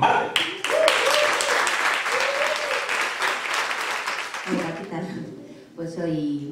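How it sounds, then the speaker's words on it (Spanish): Audience applause welcoming a performer to a poetry slam, a warm burst of many clapping hands that swells and then fades out near the end as a voice begins speaking. "Un fuerte aplauso y os dejo con Marte."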